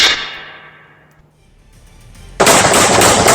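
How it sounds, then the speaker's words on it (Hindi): Gunfire sound effect in a Hindi news report about a shooting at a cafe in Surrey, Canada, a loud abrupt burst of rapid shots cutting in after a fading tone and near silence. "कनाडा के सरे इलाके में कॉमेडियन कपिल शर्मा के कैप्स कैफे पर 4 महीनों में तीसरी बार फायरिंग"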